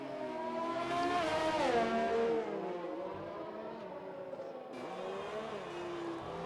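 A Renault Formula 1 car in a racing video game screams past on the Azerbaijan circuit, its high engine note rising then dropping as it flies by, with another car's steady drone continuing alone afterwards.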